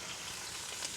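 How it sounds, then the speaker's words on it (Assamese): Pieces of one kilogram of local chicken land in a large, hot wok over a wood fire, producing a soft, continuous, close sizzle and crackle with no talking. "আৰু এইখিনি মাংসখিনি দি দিছোঁ।"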